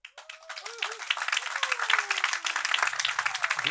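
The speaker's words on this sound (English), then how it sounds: "big round of applause to encourage our 10 finalists," Audience at a startup pitch competition regional final in Paris breaks into applause, a dense patter of clapping building and holding, while a voice speaks over the start.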